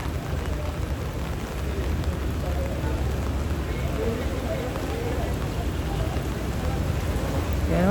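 Steady, dense rain from a super typhoon pours without a break, a broad constant wash of noise with a low rumble beneath it.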